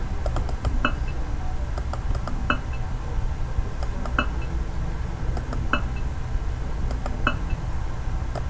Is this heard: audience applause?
no